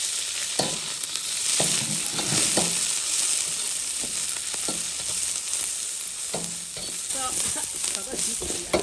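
Young beef is stir-fried hard in a hot wok, a loud continuous sizzle broken by repeated spatula scrapes and clanks against the metal, with no talking.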